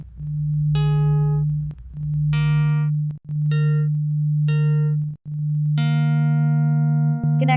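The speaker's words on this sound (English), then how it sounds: "The humming sound indicates the distance to the closest link." A steady, low electronic hum from a network-link distance sonification plays almost without a break, with brief dips. Short, bright synthetic chime tones ring out above it several times. No voices.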